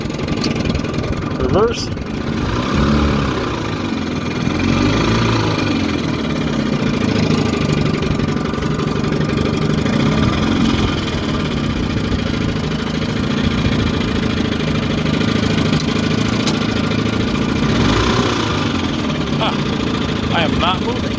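A 1954 Super Fastwin 15 hp outboard motor idles on a lake with a steady, throbbing mid-pitched hum that runs unbroken, while someone speaks briefly over it.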